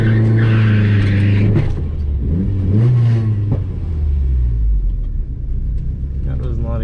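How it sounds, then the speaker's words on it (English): A big-turbo 1.8T Mk2 GTI drag car does a burnout at a drag strip, its engine revving and rumbling loudly up and down, with tire and exhaust noise. Talk sits over the engine. "That was not a great burnout."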